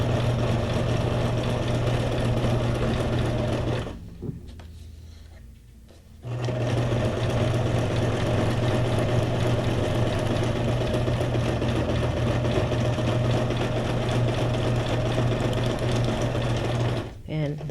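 A sewing machine stitches through a paper belly band for a junk journal file folder, running in a steady close whir that pauses for about two seconds early on before resuming and continuing at a constant pace.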